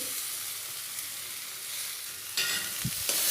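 Potatoes sautéing in a pan for egg curry, a close steady sizzle with stirring, and a sharper scrape and burst of louder frying near the end, no voices.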